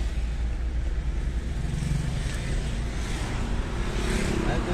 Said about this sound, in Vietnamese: Máy móc chạy cực ngon, êm chất.